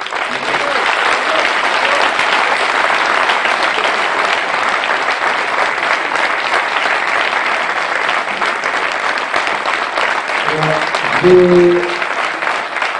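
Loud, sustained applause from a political rally crowd, steady and dense from start to finish, with a few voices calling out near the end.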